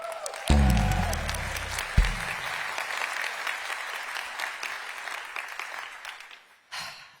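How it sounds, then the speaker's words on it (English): Audience applause at the Snowflake Summit 2025 builders keynote, honoring the jazz ensemble Jazz Mafia. A strong burst of clapping starts with a loud low thump from the stage. It holds steady and full for several seconds, then ends in a brief drop before a new sound. "let's give a round of applause to the talented individuals that make up Jazz Mafia"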